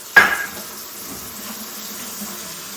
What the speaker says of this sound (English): I'm gonna run my tap